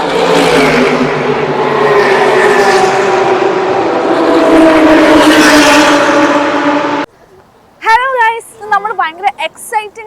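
Loud, continuous roar of race cars passing on the circuit at the Dubai Autodrome 24-hour race in Motor City, Dubai, engines sweeping by for about seven seconds before cutting off, followed by someone speaking.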